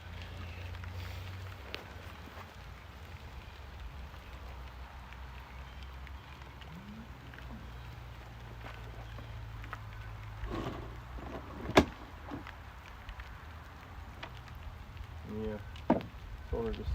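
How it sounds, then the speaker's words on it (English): Rain falls hard outdoors at a deck build site, a steady broadband patter lasting throughout with a low hum underneath and a few sharp knocks and clicks near the end. "The rain hit pretty hard"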